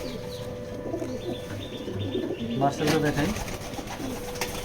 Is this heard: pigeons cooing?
yes